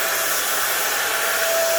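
An electric sprayer applies DTG pretreatment liquid onto a shirt, with its nozzle set to a vertical pattern, giving a loud, steady hiss with a faint whine that runs unbroken for the whole stretch.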